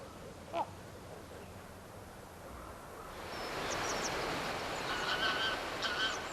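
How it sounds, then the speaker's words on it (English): Greylag geese call from a valley where they feed, their honks rising from about the midpoint as a loose chorus of short, overlapping calls over a steady outdoor hiss, after a quieter opening with one brief sharp sound. "In the valley, the grey geese have come to feed."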